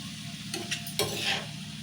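Red lentils and chopped onions are stirred in a hot pan for a Telugu onion-lentil curry, with a steady low sizzle and a few brief scraping strokes of the spoon, close and fairly quiet.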